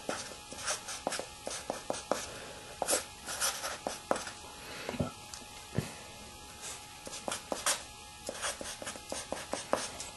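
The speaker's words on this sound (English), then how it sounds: "Now I'm gonna just write that over 2m." Pen or marker writing a physics equation on a surface, a close string of scratchy strokes and taps in irregular bursts, fairly soft, with no talking.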